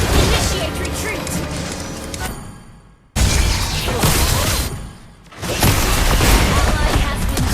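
Turret destruction and explosions in a mobile MOBA battle, loud dense booming blasts filling the clip in two bursts, with game announcer voice lines over them.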